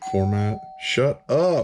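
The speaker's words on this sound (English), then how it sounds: "That's my phone that's always chiming if you don't understand what the bell is." A phone notification chime rings out in a clear electronic tone while someone talks over it in a short, close exchange.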